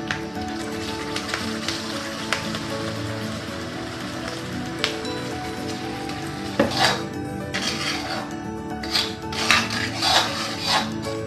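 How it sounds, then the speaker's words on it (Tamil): Hot oil sizzles and crackles in bursts as curry leaves are dropped in, with occasional clinks of a utensil against the pan. "கறிவேப்பிலை பொரிஞ்ச உடனே இப்போ நம்ம இதை வந்து அரைச்ச உழுத இதில் போட்டுக்கலாங்க"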